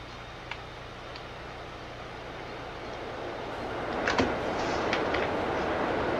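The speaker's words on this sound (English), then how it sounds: "It's a nice train, that." Steady rumbling train noise in Farming Simulator 19 with a faint rhythmic clatter that swells slightly toward the end, broad and continuous.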